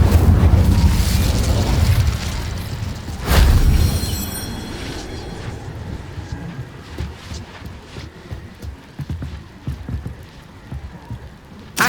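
An Incendio fire spell cast in Hogwarts Legacy: a loud, close fiery burst and whoosh near the start, a second booming surge a few seconds later, then crackling flames and scattered pops fading to quieter rumbling.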